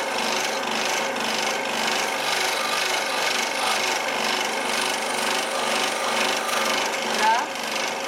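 A scroll saw blade rasps steadily through wood while cutting out a Christmas village piece, a continuous close buzzing scratch that runs without a break.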